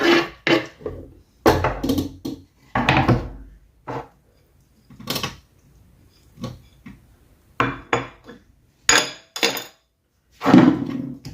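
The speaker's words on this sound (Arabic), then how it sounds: "وغادي نخلط كلشي هكا" Rice being stirred together with chicken liver, parsley, chopped olives and preserved lemon in a kitchen: irregular bursts of scraping and clattering, utensil against bowl, separated by short quiet gaps.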